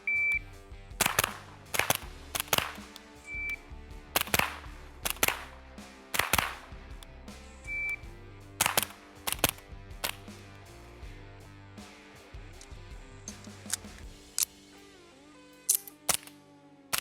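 Beretta PMXS fired at a range, sharp cracking shots in uneven bursts and singles spread across the span, with faint shot-timer beeps between strings.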